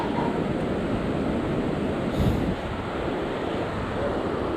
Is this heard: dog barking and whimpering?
no